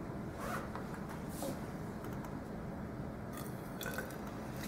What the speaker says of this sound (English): And right away, you notice there's bubbling.